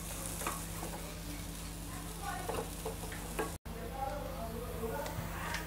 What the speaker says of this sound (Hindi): काला नमक और आमचूर पाउडर डालेंगे और स्टफिंग को अच्छी तरह से हिला दें